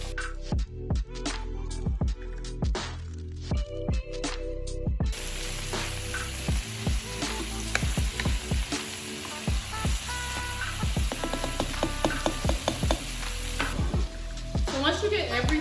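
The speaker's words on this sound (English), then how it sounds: "now I'm going to add our summer squash to the pot so that it can start to saute with our onions" Summer squash and onion sauteing in a pot for a tomato, pasta and squash soup, a steady close sizzle punctuated by repeated clinks and scrapes of a utensil stirring.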